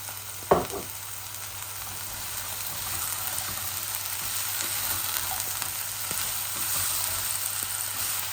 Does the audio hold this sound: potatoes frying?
yes